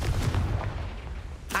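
Confringo fire spell cast in Hogwarts Legacy, a dense booming blast that rumbles loudly through the whole moment and ends in a sharp crackling burst, with no talking.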